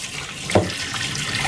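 Hot water is poured into a 6-liter container while preparing a soak for cleaning a Mikuni carburetor. A short, close gush of liquid rises briefly and then settles back into a low steady hiss.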